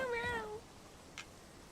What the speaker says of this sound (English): He's like, meow, meow, meow.